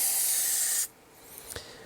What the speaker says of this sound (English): I'm going to shake this stuff well. And then I'm going to just spray some in here.